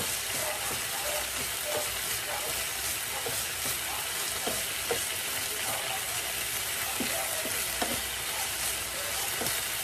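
Garlic sizzles in oil at the side of a pan next to corned beef, a steady close crackle with small pops and faint stirring, and a voice briefly speaking in the background.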